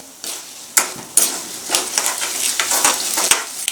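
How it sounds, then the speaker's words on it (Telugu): Tempering spices and curry leaves crackle and sizzle in hot oil, with sharp pops and a spoon scraping the pan several times; close and fairly loud, no voices. "కరివేపాకులో ఉన్న పచ్చిదనం పోపులు కూడా బాగా వేగాలండి"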